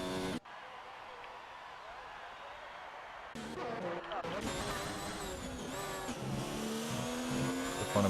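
Race car engine on an out lap of the Canadian Grand Prix in F1 2019, a steady mid-pitched whine rising and shifting with revs, with harmonic tones climbing as it accelerates, heard under talk.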